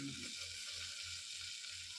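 Green chilies and fennel seeds sizzle loudly in hot oil, a dense steady crackle with faint low thumps underneath and no talking.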